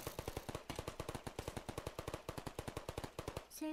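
Rapid bursts of portal gun fire in a modded Minecraft game, a loud fast string of sharp repeated shots lasting several seconds with no talking.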